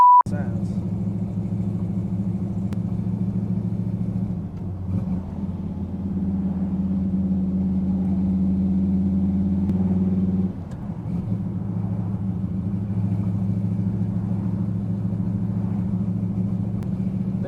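Car engine on its first drive after a fresh build, running at low RPM in high gear at speed: a steady, loud low rumble and drone with a brief dip midway, under occasional talk.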